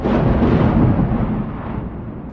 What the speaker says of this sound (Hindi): बल्कि ये आवाज तो नेपच्यून के अंदर से आ रही है, उसके एटमॉस्फेयर से, जहां पर हवाएं चल रही है।